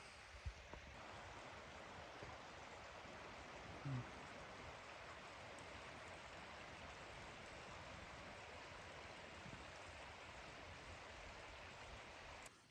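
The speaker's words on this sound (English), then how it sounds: "A little feeder creek." Small feeder creek running near a lake in hill country, a steady soft wash of flowing water heard close and continuous, with no voices over it.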